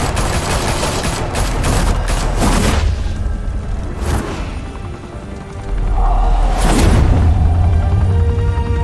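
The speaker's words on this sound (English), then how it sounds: "Open fire!" Gunfire in Batman - The Telltale Series, loud sustained bursts of automatic fire with booming impacts and whooshes, dense and close throughout with no talking.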